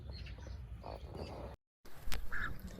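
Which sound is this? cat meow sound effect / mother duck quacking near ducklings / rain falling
mother duck quacking near ducklings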